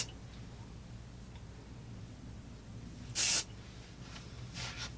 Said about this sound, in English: I'll just kind of spray underneath just so I can lock that volume in.